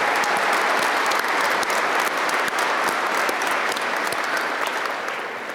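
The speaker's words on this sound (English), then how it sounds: "One more round of applause, please" A large commencement audience gives a sustained round of applause, a loud continuous roar of many hands clapping that holds steady and tapers slightly at the close.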